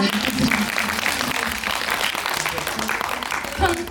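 Audience applause at a film special screening talk event, a steady wash of clapping that fills the whole moment with no clear break, at moderate loudness.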